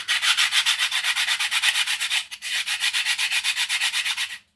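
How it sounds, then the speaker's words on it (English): Fast, steady back-and-forth rasping of a sanding stick on wood, rhythmic strokes close up on a model dory, with a brief pause midway before the scratching resumes and then stops. "But what I did was I used a sanding stick."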